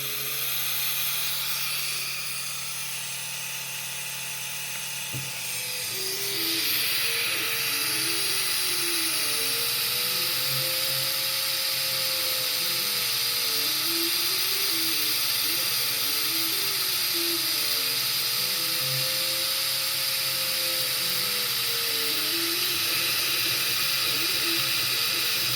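A laser engraver burns a logo into a wood backer board, a steady high whine with repeating swooping servo sweeps as the head traces back and forth, loud and continuous after a quieter start.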